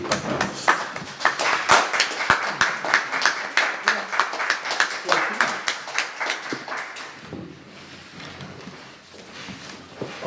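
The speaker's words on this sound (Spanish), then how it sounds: "un gran aplauso a María Isabel para que partamos." Audience applause at a book presentation held by the Society of Writers of Chile, brisk clapping from a small crowd that thins out and fades toward the end.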